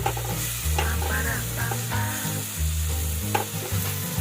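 Jackfruit pieces frying in a pan while being stirred, a steady close sizzle with scraping spatula strokes and a low droning hum underneath, no talking.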